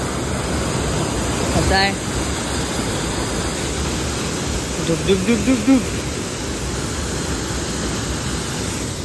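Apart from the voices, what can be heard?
Amboli waterfall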